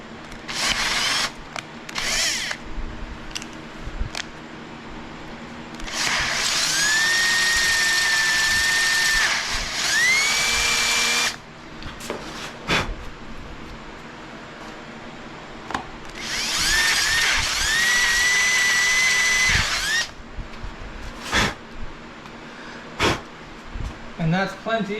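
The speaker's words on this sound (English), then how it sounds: "then we're going to drill this guy out" A power drill bores out a hole in work on a 1963 Corvair, whining in two long sustained bursts with a rising pitch as it spins up, and quieter clicks and handling noises between them.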